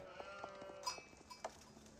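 Sheep bleat in the strategy game Age of Empires 4, several short, faint calls scattered across a quiet background with light clicks.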